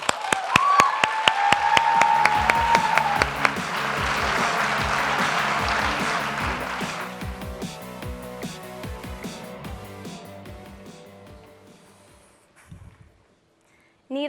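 An audience at a talk event applauds to welcome a speaker to the stage, dense clapping that swells and holds for several seconds, then thins out and fades to near silence.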